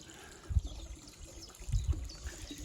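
A small pump in a garden pond keeps water trickling and splashing gently, with a few louder, lower gurgling bursts rising above a steady faint background.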